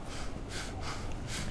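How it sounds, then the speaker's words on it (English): Heavy breathing comes from a character in the video game Dead Island, rhythmic rasping inhales and exhales repeating several times, close and alone. "Some heavy breathing going on"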